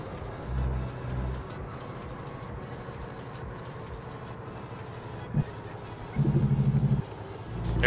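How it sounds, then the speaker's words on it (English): Truck Jake brake in the video game American Truck Simulator: a low, rapid engine rattle that sounds in two short bursts, early on and near the end, over a steady driving rumble. "It sounded like a good old Jake brake"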